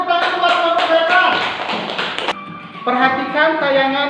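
Schoolchildren applaud a classroom group in quick rhythmic bursts of close, loud clapping, overlapped by young voices chattering and calling out throughout.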